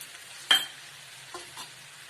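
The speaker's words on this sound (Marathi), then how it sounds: "परत मोठी आच करून 2 मिनिटं चांगलं फ्राय करून घ्यायचं" Ghevda flat beans frying in a pan over high heat while being stirred, giving a soft sizzle with one sharp scrape and a couple of fainter stirring sounds, all fairly quiet.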